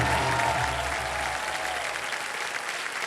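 A studio audience on a Hindi quiz show claps loudly in a dense, steady burst that tapers slightly toward the end, with a faint tonal sound underneath at the start.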